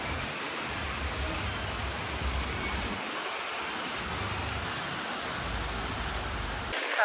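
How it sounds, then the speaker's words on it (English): Wind gusts through an outdoor walkway at the Disney Riviera Resort, producing a steady broadband rush and low buffeting rumbles against the microphone, fairly faint and without talk. "Sorry about the wind tunnel through here."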